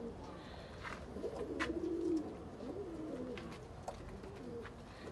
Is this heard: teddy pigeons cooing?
yes